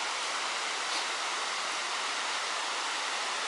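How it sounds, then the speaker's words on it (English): The River Teme flows below the viewpoint at Whitcliffe Common near Ludlow as a steady, even broadband rush, with no voices heard. "There's the river below, River Teme."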